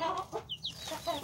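Backyard chickens, including laying hens, cluck softly near a feeder while chicks chirp thinly, faint and close with short irregular calls and no talking.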